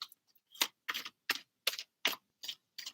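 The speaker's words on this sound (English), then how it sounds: "I'm going to keep shuffling" Tarot cards are shuffled by hand, giving seven short, crisp papery bursts in a steady rhythm, close and clear against near silence with no talking.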